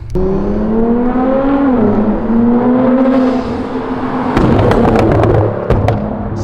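A 2016 Nissan GTR fitted with a flamethrower exhaust, a loud droning engine tone that shifts pitch, then sharp crackling pops and bangs from the flames near the end.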